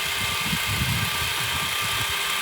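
A loaded tractor engine runs nearby with a loud, steady, rumbling drone and a dense mechanical roar, heard alone without talk.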